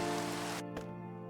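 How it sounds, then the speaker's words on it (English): Steady rain pattering in the video game Minecraft, a dense broadband hiss filling the whole moment before it drops away, with a brief soft splash partway and faint background music tones continuing underneath. "And of course, it's raining."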